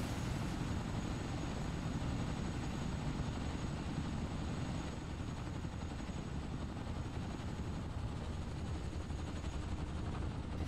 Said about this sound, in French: Alors j'entends l'hélicoptère.